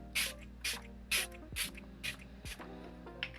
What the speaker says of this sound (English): it's time for my first setting spray